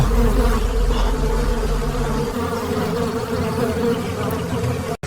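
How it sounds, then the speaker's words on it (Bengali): Bees swarming around a large beehive on a tree branch in the Amazon jungle, a dense continuous droning buzz, loud and close, with no one speaking. "ওই গাছের ডালে একটা বড় মৌচাক আছে"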